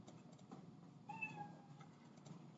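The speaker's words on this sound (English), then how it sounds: "Play sound meow." A cartoon cat meow sound effect plays in the Scratch programming environment as a single clear, faint meow over a low background hum.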